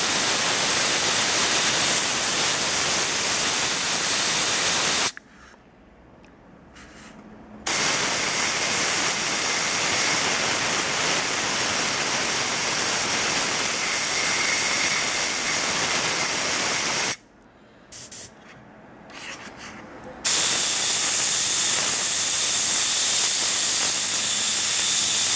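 An airbrush sprays thinned paint while a Space Marine miniature is painted, a continuous steady hiss that cuts off twice for a few seconds before resuming.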